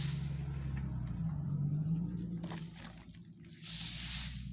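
A car passing by outside in a small town, a low engine rumble that swells and fades at a distance, with a brief rise near the end.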